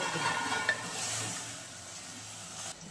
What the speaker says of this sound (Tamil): இறால போட்டுருங்க. போட்டு ஒரு இலக்கி